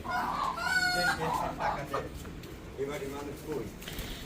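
A rooster crows in a village household yard kept with many roosters and hens. The call is loud and close in the first half, and people talk over and after it.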